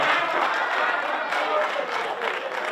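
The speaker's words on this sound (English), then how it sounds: "Clap for him." An audience at a town hall sensitization meeting of the ECOWAS Parliament claps for a speaker who answered a question, a sustained wash of many hands with a voice faintly over it.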